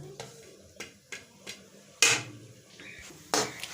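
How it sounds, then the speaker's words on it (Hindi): A spoon knocks and scrapes against a pot while onions fry for chicken kofta pulao, giving several sharp, close metallic clinks at uneven intervals over a low background. "साथ साथ हिलाते रहेंगे, चम्मच चलाते रहेंगे इसके अंदर"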